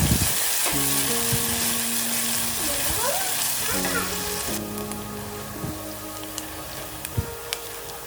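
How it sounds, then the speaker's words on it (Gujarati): Finely chopped onions sautéing in hot oil in a pan, a steady close sizzle throughout while someone talks over it. "હવે એને ગોલ્ડન બ્રાઉન થાય ત્યાં સુધી આપણે સાતળી લઈશું"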